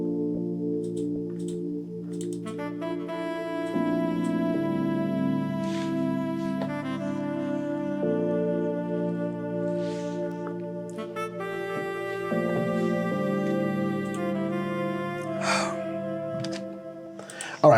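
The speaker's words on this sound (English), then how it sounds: "the next thing that I added onto this whole thing is the saxophone from Contact" Tenor saxophone from a Kontakt sample library plays a sustained melodic line over an Amapiano track made in FL Studio, upfront and continuous alongside chords and percussion.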